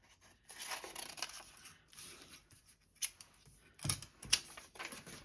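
Scissors snipping through a paper calendar page: a run of crisp cuts with several sharper, louder snips near the end, close and alone without speech.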